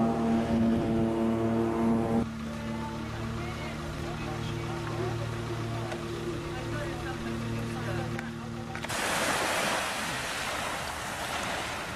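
Ocean waves at a beach on the Isle of Iona, heard as a broad rushing wash that swells loudest near the end, mixed with a steady tonal hum throughout.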